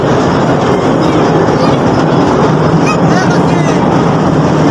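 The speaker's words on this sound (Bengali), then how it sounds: "অ্যান্ড আমার উপরে একটা ট্রেন চলে যাচ্ছে" A train rolls overhead at a holiday park, a loud, dense, unbroken rumble filling the whole stretch, with faint metallic squeals riding on top of the roar.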